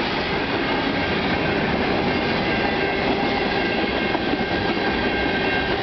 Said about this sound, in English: CN train 395